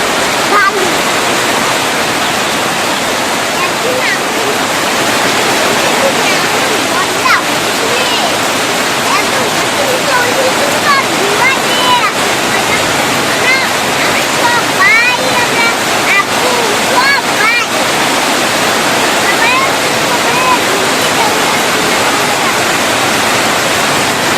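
Water pours down and splashes continuously, a loud, dense rushing roar that stays steady throughout with faint spattering on top.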